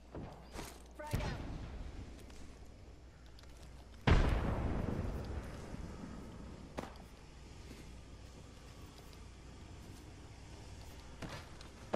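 A frag grenade explosion in Apex Legends, one sudden loud thumping blast that rumbles and fades over a couple of seconds, with scattered game sounds and faint talk around it.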